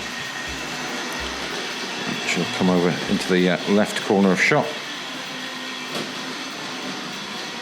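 A Tri-ang Hornby Railway Children model train set running at a model railway exhibition, a steady mechanical whir and hum under someone talking nearby.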